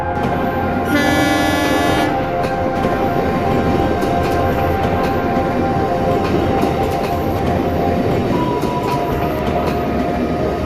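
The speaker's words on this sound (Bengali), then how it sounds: "ট্রেন থামিয়ে আমাকে হসপিটালে ভর্তি করার অবস্থা করে দেন" A train rumbles steadily throughout, with a loud horn blast near the start and a continuous low mechanical roar continuing afterward.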